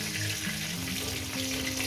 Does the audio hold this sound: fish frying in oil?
yes